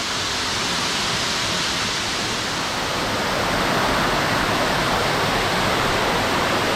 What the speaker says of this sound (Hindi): ये देखिए वाटरफॉल, देखिए हम वाटरफॉल के पास हैं